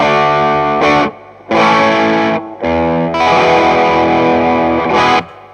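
Loud, heavily distorted electric guitar chords through a JHS Bonsai overdrive pedal with a bright, cutting bridge humbucker tone, played in several sustained bursts separated by short pauses.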